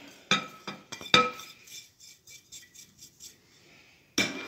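Dry ingredients like flour, cinnamon, anise and flaxseed are mixed in a bowl, with a few sharp spoon clinks against the dish, then soft rhythmic rustling strokes and a final loud clink, close by with no talking.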